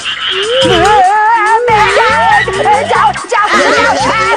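Cartoon frog croaks from a Ninja Hattori episode repeat rhythmically over bouncy music, loud and close, with warbling sound effects layered on top.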